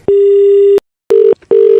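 Loud, steady telephone tone after a call is hung up, one long beep followed by two shorter beeps separated by silent gaps.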